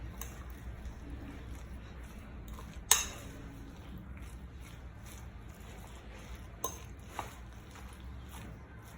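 Quiet clinks and scrapes of a utensil against a bowl while a potato and chicken filling is mixed with egg. One sharp knock stands out amid the soft, steady stirring.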